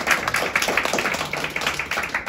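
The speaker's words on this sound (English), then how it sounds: "Please give him a big round of applause." An audience at a Toastmasters gathering in Hong Kong gives a short burst of steady, close clapping in honour of KF Tam.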